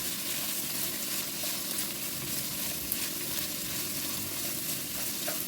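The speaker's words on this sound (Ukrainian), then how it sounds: "У мене сухий розмарин, можна додати свіжий. Все перемішую." Steady close sizzle of food frying in a pan with dried rosemary, stirred continuously, a dense even crackle without pause and no voices.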